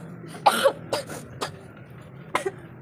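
A few short coughs and throat-clearing bursts from a woman, spaced irregularly over a couple of seconds against a quiet indoor background.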